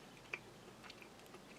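Soft, close chewing of a half stick of soft, sugar-free strawberry-flavoured gum from a Latvian army field ration, faint wet mouth clicks and squishes with no talking.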